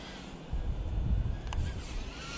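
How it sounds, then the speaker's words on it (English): Steady wind buffeting a microphone outdoors during snowfall, a low rumbling roar that swells and fades with the gusts, with no voices. "It's also very windy outside."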